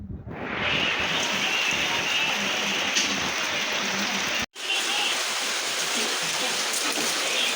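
Heavy typhoon rain pours steadily in a continuous rushing hiss, briefly cut off by a short gap before resuming just as strong.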